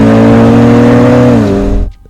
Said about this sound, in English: the E92 M3 has probably the most sonorous exhaust note to